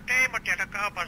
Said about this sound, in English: Who's ringing the phone?